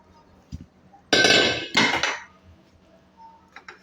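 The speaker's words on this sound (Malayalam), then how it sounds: "ഈ പാത്രത്തിനെ ഇതിൻ്റെ അടപ്പിനെ എടുത്ത് മാറ്റുന്നു" Two loud metallic clanks in quick succession as a lid comes off a metal pot, followed by quieter faint taps.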